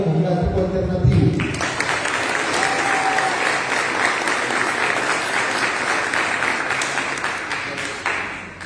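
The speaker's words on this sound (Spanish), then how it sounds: "Un aplauso" Sustained applause from a crowd at a Colombian political event, loud and dense clapping filling the whole stretch, starting abruptly after a brief voice at the beginning.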